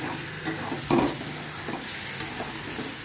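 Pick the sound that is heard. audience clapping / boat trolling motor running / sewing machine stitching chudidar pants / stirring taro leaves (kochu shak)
stirring taro leaves (kochu shak)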